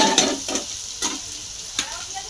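Onion hits hot oil already frying curry leaves, giving a bright, close sizzle punctuated by several sharp stirring scrapes, with no talking.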